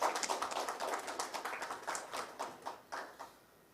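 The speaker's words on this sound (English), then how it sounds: "Should I give the clap?" An audience at an education forum claps in a loose burst of rapid hand claps that gradually thins into fewer scattered claps, heard faintly from a distance in a hall.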